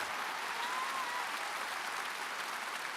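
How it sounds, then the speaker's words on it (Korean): A congregation claps steadily through a Korean Sunday afternoon worship service in a Gwangju church, a continuous soft, even patter of many hands with no voices over it. "빨리 이 밤에 빨리 박수 쳐라 이거"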